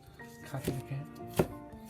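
Close knife strokes cutting ginger as thin as possible on a board, a few soft irregular chops over two seconds with faint background hum.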